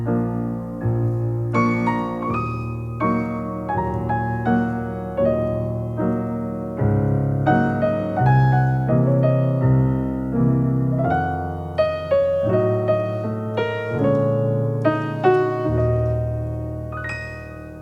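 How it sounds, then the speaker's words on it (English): A choir sings a slow spiritual in sustained harmony, voices swelling and falling phrase by phrase, with no other sounds. "What you hear is one of many Negro spirituals"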